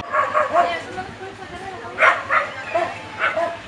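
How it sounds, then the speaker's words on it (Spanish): Dogs barking and whimpering at night in Villa de Álvarez, a series of yips and whining cries in short bursts with voices talking over them. "porque siempre están llorando en la noche, ladrando"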